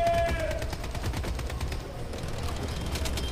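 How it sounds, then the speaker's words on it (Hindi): Rapid bursts of gunfire in the mobile shooter Project BloodStrike, aimed at the player: loud, close, overlapping shots with several quick volleys over a few seconds. "यस यहाँ से कोई मुझे शूट कर रहा है"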